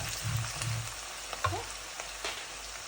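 Apple pickle ingredients frying in a pan, a quiet, steady crackling sizzle with a few soft stirring knocks, heard close but low in level, with no voices.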